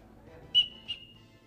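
A person whistles two short, sharp high notes, the second sustained briefly, heard clearly in a quiet room with faint background murmur.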